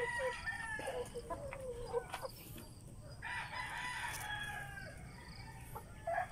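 Rhode Island Red and Black Australorp chickens crow and cluck inside a coop, several birds calling over one another in a busy, close flock chorus with no talk.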